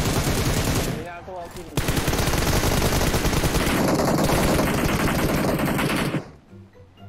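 Sustained automatic gunfire in the battle royale game PUBG Mobile, loud rapid bursts firing nearly continuously with a brief pause early on, then cutting off near the end.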